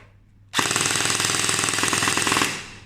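An XYL ARP9 gel blaster fires one sustained full-auto burst at roughly twenty rounds per second, a loud rapid mechanical rattle that starts abruptly after a short quiet pause and cuts off cleanly after about two seconds.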